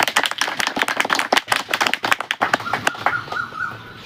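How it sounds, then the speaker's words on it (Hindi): Villagers clap in welcome at a protest sit-in site as an official arrives, a dense run of sharp, irregular hand claps close by, gradually thinning out over a few seconds, with no talking. "गाँव के लोग IW साहब के पहुँचने पर ताली बजाकर स्वागत करें"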